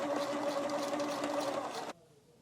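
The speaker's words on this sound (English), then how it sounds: "I'm just going to try this on the sewing machine before I go in with my main fabric." A sewing machine runs fast stitching a test scrap of fabric, a loud, even motor whir with rapid needle rattle for about two seconds, then stopping abruptly into quiet.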